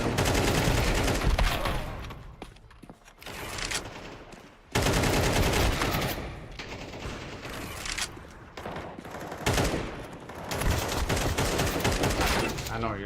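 Rapid automatic gunfire in the video game Counter-Strike, loud dense bursts of shots filling most of the stretch with a few short pauses between volleys, close and harsh.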